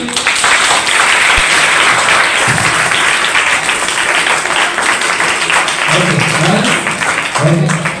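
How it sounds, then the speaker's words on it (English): Audience applause for a debate speaker at a school debate competition, dense steady clapping throughout, loud and close, with a few voices calling out near the end. "Kindly keep the clapping short."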